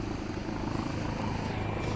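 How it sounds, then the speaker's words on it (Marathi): A helicopter passing overhead above Juhu beach in Mumbai, a steady broad rotor and engine drone heard from a distance, continuous and even over the beach ambience. "मित्रांनो वरून हेलिकॉप्टर जाते,"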